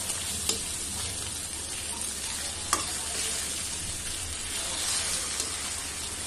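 Raw banana slices frying in a pan in a Bengali home kitchen, giving a steady, close sizzle and crackle throughout with a few sharper pops and no talking.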